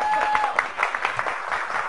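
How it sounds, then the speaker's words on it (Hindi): A studio audience breaks into light, scattered clapping, thin and somewhat distant, with a faint steady tone running beneath. "तालियां बजाओ"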